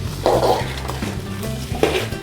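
Prawns being stirred and fried in a pan for chemmeen chammanthi podi, a close, steady sizzle with scraping stir strokes and a few clinks of a spoon on metal, no voices.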